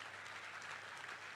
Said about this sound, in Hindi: जो समझे उनकी तालियां उठें